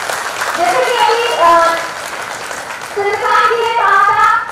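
Applause from the audience at a coaching-centre toppers' felicitation event, a dense ongoing clapping that swells and persists, with a voice speaking over it.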